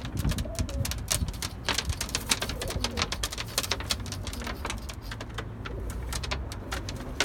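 Pigeons in a coop coo and flutter in a steady, busy chorus, with scattered sharp wingbeats and shuffling close by and a low hum of activity throughout.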